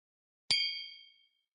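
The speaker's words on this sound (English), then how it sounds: "I'm going to pour myself a glass of Blood Oath Pact number 4 bourbon" A single clear ring of a glass being clinked while pouring Blood Oath Pact No. 4 bourbon, a sharp close ding that decays over about a second in quiet surroundings.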